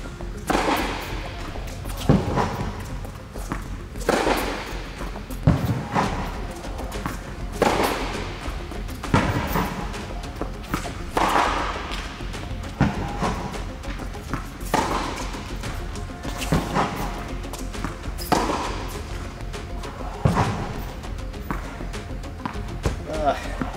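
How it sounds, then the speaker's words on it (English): A tennis ball struck hard with a racket on a court, a series of sharp, evenly spaced impacts every second or two over about twenty-four seconds, with a voice talking throughout. "here's a clip again of me hitting the same shots, but this time I'm trying to kill the ball and keep it in the court"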